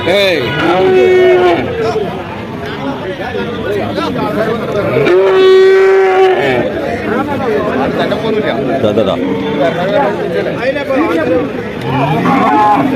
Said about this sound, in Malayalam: നമ്മളെ മൂരിക്കുട്ടിയുടെയും കാളയുടെയും പശുവിൻ്റെ ഒക്കെ ഇടയിൽ കൂടെ പോയിക്കൊണ്ടിരിക്കട്ടാ